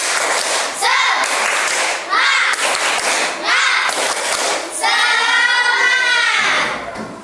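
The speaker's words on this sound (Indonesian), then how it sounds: "Biar tambah semangat. Tepuk semangat." A class of children does a rhythmic spirit clap in a classroom, bursts of hand claps in patterned groups with young voices chanting along between them, loud and close.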